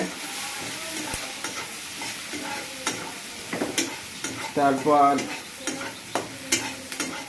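Chopped onions sizzle and fry in a pan while being gently stirred, a steady close hiss broken by scraping strokes, with a brief spoken word partway through.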